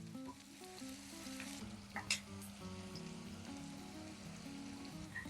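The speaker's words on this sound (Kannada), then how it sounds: "ಹಾಗೆ ಮಧ್ಯ ಮಧ್ಯದಲ್ಲೇ ಮಟನ್ನ ಫ್ರೈ ಆಡಿಸ್ತಾ ಇರ್ಬೇಕು" Mutton frying in a pan for a simple mutton curry, a steady close sizzle running the whole time with occasional stirring scrapes and a brief louder crackle near the middle, no voices.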